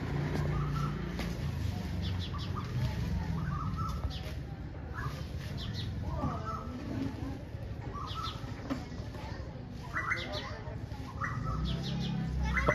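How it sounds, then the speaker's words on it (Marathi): Small birds chirp and twitter in scattered short calls through an outdoor ambience with a steady background hum, with faint rustling and no clear talk. "पक्ष्यांचा आवाज येतो का तुम्हाला?"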